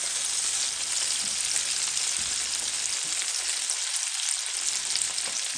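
Tomato and green chili paste frying in a pan, giving a loud, steady, dense sizzle that fills the whole clip with no talking.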